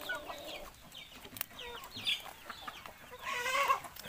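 Backyard chickens, a mix of native and bred birds, cluck in scattered bursts outdoors, fairly faint and distant, getting busier toward the end.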